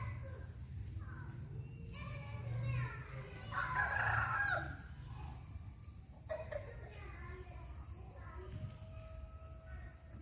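A rooster crows clearly at mid-distance over quiet outdoor ambience, with faint clucking chickens around it and no speech.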